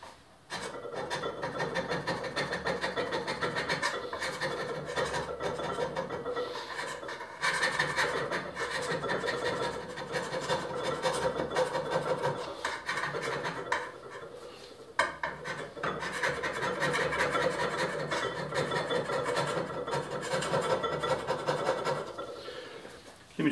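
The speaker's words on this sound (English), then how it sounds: "It doesn't take that long to hand scrape it either." Hand scraping a minilathe bed with a metal scraper, repeated raspy strokes in steady bursts, close and fairly loud, with brief pauses between passes.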